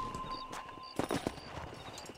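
Horse hooves in Red Dead Redemption, a quiet cluster of thudding clip-clop steps in the middle of the moment, with faint background tones around them.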